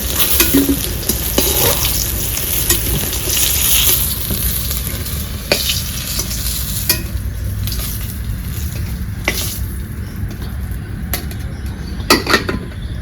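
Oil sizzles and hisses in a pan, where fish and eggplant have been fried for a rustic fish and potato curry. Frequent metallic stirring scrapes and clinks of utensils break through the steady frying, with no talk.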